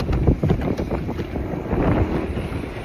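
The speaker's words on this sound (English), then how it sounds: "that wind is making it impossible to get back" Gusty wind roars across a Utah lake during trolling from a boat, loud steady buffeting with low rumbling surges and faint water movement throughout.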